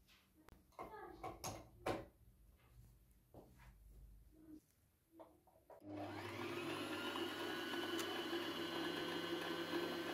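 People talk at first, then an electric sewing machine run by a foot pedal starts and gives a loud, steady mechanical whir that continues to the end.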